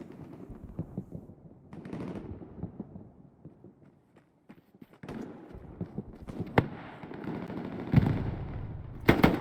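Gunfire during an 18-versus-18 team battle on a derailed-train map, with scattered sharp single shots and short bursts at varying distances, some distant and faint, others close and loud.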